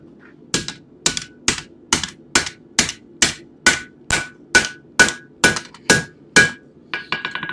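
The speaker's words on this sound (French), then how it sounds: "Je reprenne mon marteau." A hammer strikes metal while nails are forged at a nail header, about fourteen sharp, ringing blows in a steady, even rhythm. The blows are close, loud and alone, with no talking.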